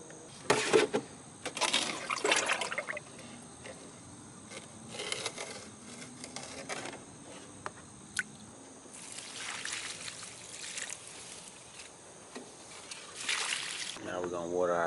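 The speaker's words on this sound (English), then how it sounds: "Next, I'm gonna water our peaches and cream corn in our 30-gallon container." Water splashes and trickles into a 30-gallon container of peaches and cream corn plants in a garden, pouring in uneven bursts with brief pauses and soft background noise.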